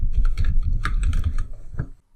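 Typing on a computer keyboard while writing Java applet code, with rapid close key clicks in quick bursts that stop near the end.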